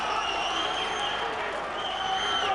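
A boxing crowd at a bout between Craig Docherty and Joshua Kpakpo Allotey keeps up dense cheering and applause throughout, loud and continuous, with an excited roar swelling in the arena.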